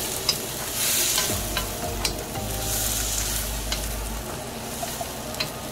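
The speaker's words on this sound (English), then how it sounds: "So I'm stir frying this for a couple" Vegetables stir-fry loudly in a big wok with steady crackling sizzle, while a wooden spoon scrapes and knocks against the pan now and then; a low rumble runs underneath and nobody speaks.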